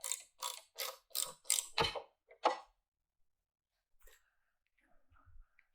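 A tonneau cover clamp being tightened on a Jeep Gladiator pickup: a quick run of about seven ratcheting clicks, close and crisp, followed by quiet with a few faint handling sounds.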